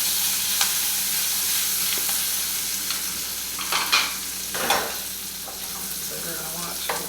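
Chopped onion and jalapenos sizzle steadily in a frying pan for an omelette, a soft continuous crackle with occasional louder spatters and stirring scrapes, no talking.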